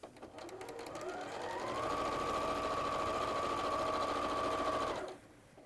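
Sewing machine running steadily as it stitches a seam on a triangle pillow, a continuous whirring hum lasting several seconds before it stops, alone without talk.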